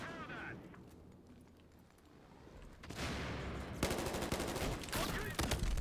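Rapid bursts of gunfire and explosive rocket-launcher blasts from the video game Battlefield Hardline, growing dense and loud in the second half, with a voice speaking over the opening.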